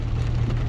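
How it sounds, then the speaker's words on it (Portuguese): Steady rain falling in Itapema, Santa Catarina, Brazil, for over two hours, a continuous dense hiss with a low rumble underneath, no voices, constant and fairly close throughout. "Faz mais de 2 horas que tá chovendo direto aí"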